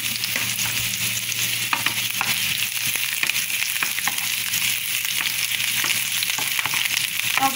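Onion fries in a little oil in a pan, making a loud continuous sizzle and crackle up close, with stirring scrapes and soft clicks throughout and no voices.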